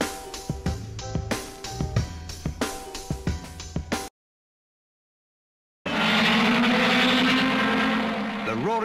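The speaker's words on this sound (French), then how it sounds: "The roaring start of the French Grand Prix" Race cars roar away at the start of the French Grand Prix on a road circuit, a loud sustained engine blare with rising pitch sweeps. Earlier, percussive music plays, followed by a brief gap of silence.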